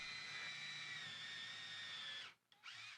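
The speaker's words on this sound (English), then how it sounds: "drill 4 1/4-inch holes on each side for the dowels that will align the parts during glue-up" A power drill whines steadily for about two seconds, then cuts out briefly and spins up again, loud and close with no talking, boring quarter-inch dowel holes in wood.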